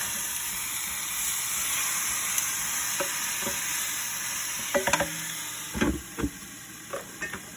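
Food sizzles and fries steadily in a pan while a utensil stirs it, with a few louder scraping knocks toward the end. The sound is close and continuous, with no talk.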